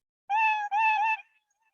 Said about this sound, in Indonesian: maka setiap bergerak dia bunyi meow meow meow meow meow